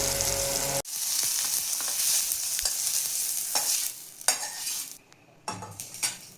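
Tomato fries in hot oil in a pan with a loud, bright sizzle that cuts off abruptly, then returns in bursts alongside scraping stirs and metallic spatula clinks.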